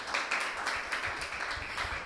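Faint applause from a church congregation welcoming a sister to the front at an evening worship meeting, a soft steady patter of clapping lasting a couple of seconds with no talk over it.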